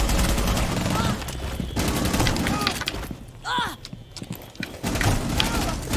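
Gunfire from the tactical shooter game Rainbow Six Siege, with bursts and single shots crackling in the mix while players talk over the action.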